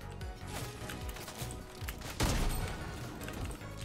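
Gunfire in the Fortnite video game during a Ranger shotgun challenge, with repeated shots and bursts in quick succession and a louder blast partway through, over steady game background.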